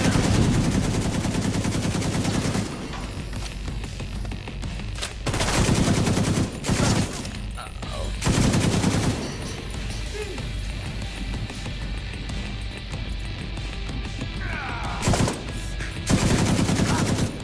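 Gunfire erupts in the shooter game Tom Clancy's The Division 2 as loud bursts of automatic fire come in repeated clusters over a constant background rumble, with faint voices mixed in.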